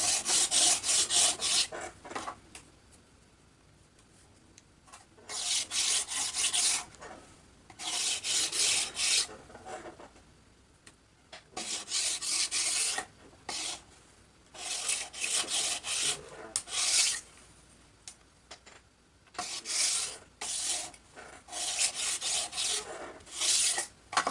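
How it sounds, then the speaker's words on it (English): Light hand sanding of small 3mm by 4mm wooden strips for a model powered glider, heard as soft, close rasping strokes in irregular bursts with short pauses between them. "I'm gonna just lightly sand these just to get the fuzz off, mainly."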